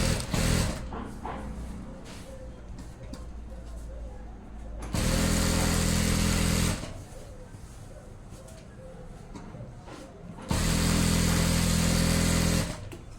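A sewing machine stitches the side seams of a pair of pants in two loud, steady whirring bursts of about two seconds each, close by, with someone talking between the runs.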